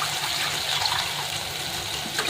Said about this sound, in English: We'll add some more water.